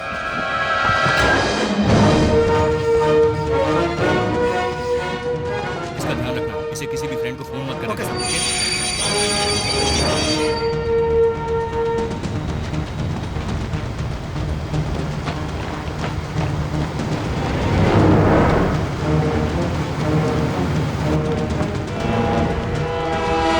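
Train on an Indian railway line slowing for a red signal, heard in a dubbed action film: steady rolling rumble and clattering wheels with squealing metal and a horn-like tone, under a constant movie soundtrack.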